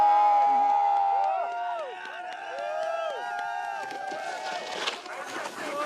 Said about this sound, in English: Sounds like a few Swissies coming across the border into France to cheer on